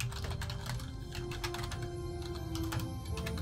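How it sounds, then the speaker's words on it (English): Rapid clicking keystrokes on a computer keyboard in an irregular typing rhythm, close and fairly quiet, with a faint steady hum underneath. "You can probably hear me typing in the background"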